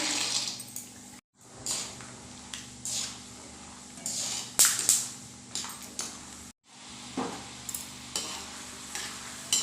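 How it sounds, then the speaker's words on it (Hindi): Half a cup of peanuts frying in oil over a low to medium flame, a soft steady sizzle broken by scraping stirs and a few brief metallic clinks, with two short silent gaps. "अब हम हाफ कप पीनट्स मूंगफली को फ्राई करके रेडी करेंगे"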